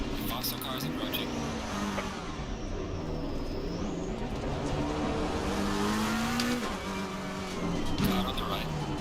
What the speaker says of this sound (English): Faster cars approaching.